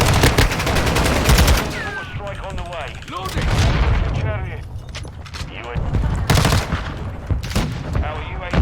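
Rapid bursts of gunfire from Call of Duty: Modern Warfare II Ground War mode crackle through a busy mix, with excited voices talking over the shots throughout.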